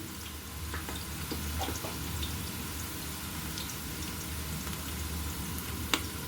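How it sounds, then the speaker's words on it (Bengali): Chopped onions browning in hot oil in a large pressure cooker give a steady, dense sizzle with a few sharp pops and crackles near the end, close and alone with no talking. "পেঁয়াজ কুচিগুলোকে আমি একটু ব্রাউন করে ভেজে নিব।"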